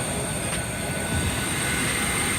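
Airplane on an airport ramp, a continuous broad engine and airflow roar with a faint high whine on top, steady and fairly loud for a couple of seconds, no voices.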